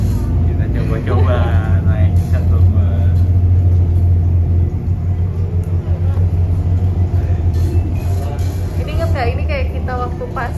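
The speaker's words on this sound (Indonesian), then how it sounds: "naik shuttle bus gini" Steady low engine rumble of a shuttle bus heard from inside while riding to Resorts World, loud and continuous, with people chatting faintly over it.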